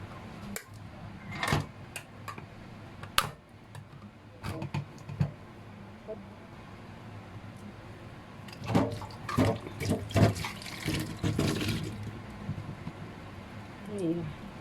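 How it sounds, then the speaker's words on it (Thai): Shiitake mushrooms being washed under a running kitchen tap, with irregular splashing, dripping and the clatter of handling in a sink, and bursts of louder rinsing toward the end. "จากนั้นมาล้างเห็ดหอมเลยค่ะ"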